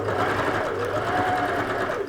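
A sewing machine stitches a seam pocket in a steady, rapid run of needle strokes throughout, close and fairly loud, with no talking.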